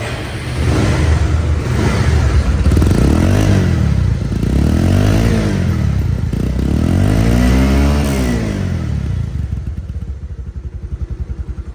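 A second-hand Bajaj Pulsar single-disc motorcycle idles smoothly up close with a steady low engine rumble and a few gentle throttle swells, then eases down near the end.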